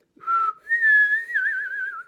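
A single person whistling a sustained tone, starting with a short lower note, then sliding up into a long wavering pitch that gently drifts downward.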